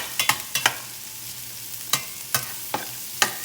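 Onion and garlic browning in a frying pan over medium heat, stirred with a utensil: several sharp scraping strokes spaced irregularly over a soft, low sizzle, close and alone.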